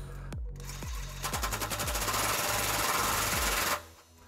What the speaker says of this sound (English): This is a 22 millimeter socket, and we're gonna tighten this while we're pulling outward on the pry bar.